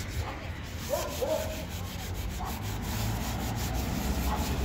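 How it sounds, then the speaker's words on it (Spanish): Steady, continuous rubbing and scraping of 120-grit sandpaper on a wooden chair, close up, with a few brief squeaky scuffs along the way. "Esto ya le lijan con una lija"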